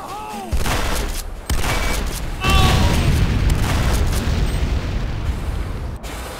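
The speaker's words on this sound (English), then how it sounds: "C4 is set. Fire in the hole!" Loud explosions and sustained gunfire crash in a Renegade video game battle after C4 is set, with a sharp blast near the start and dense, continuous combat noise following.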